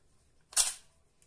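An aluminum pistol magazine seats into the gun and catches on a burr, giving one short, sharp metallic click close up, alone in near silence.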